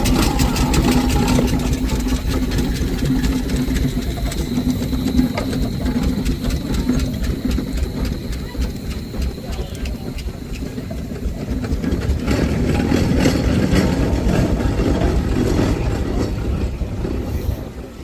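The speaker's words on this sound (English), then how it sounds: "The Fowler small engine" A Fowler small steam roller running at the Sheffield steam show, a steady close rumbling chug with fast rhythmic mechanical beats and a low throb that holds level throughout, slightly swelling near the end.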